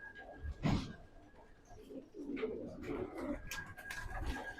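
Pigeons, fighters and stock birds in a loft, cooing softly with wing flutters and rustling, faint and close, under a voice talking.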